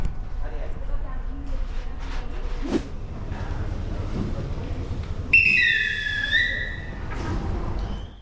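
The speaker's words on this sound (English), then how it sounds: "on the sound of the station master's whistle, off we go" At a Sri Lankan railway station, the station master blows a shrill two-tone whistle for a sleeper train's evening departure, a single sharp blast heard over station noise and a speaking voice.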